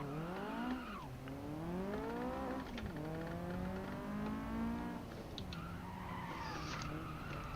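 Engine sound of the Itavalente Admiral, a car in a video game. The engine rises and falls in pitch with repeated revving and gear shifts, and tire squeal comes in near the end, at a fairly low level throughout.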